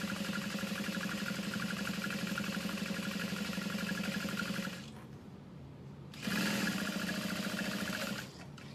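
A sewing machine stitches a fabric bucket bag at a long stitch length, running in a steady rapid whir, pausing briefly, then resuming for a short second run.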